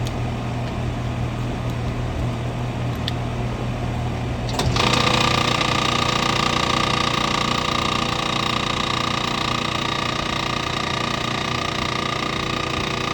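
An outdoor HVAC air conditioner compressor hums steadily, then kicks up into a louder, denser mechanical drone partway through and keeps running close and continuous, with no talking.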